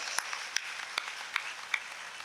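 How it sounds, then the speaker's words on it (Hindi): Soft applause from a gathering at a spiritual satsang, scattered claps with a few sharper individual hand claps standing out, faint and distant in a large space. "सब एक दूसरे के उत्साहवर्धन में तालियों के गड़गड़ाहट कर रहे हैं।"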